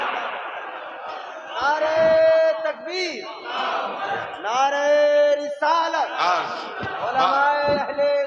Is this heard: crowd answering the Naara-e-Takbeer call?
yes